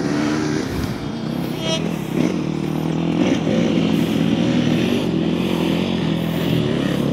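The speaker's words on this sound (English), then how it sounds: "I hear quads or motorcycles in the background." Quads or motorcycles riding around outdoors, a continuous engine drone with rising and falling revs, moderately loud and steady across the whole stretch, with no talking.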